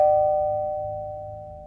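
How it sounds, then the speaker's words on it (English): A house doorbell gives a single clear electronic chime that rings out and slowly fades, alone with no voices. "I pulled up in front of the house, grabbed the pizza, and rang the bell."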